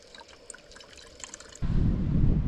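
Clean tap water from the lighthouse tap at Cape Scott starts running partway through, a sudden, steady, close gush that follows a quieter stretch of faint background sound.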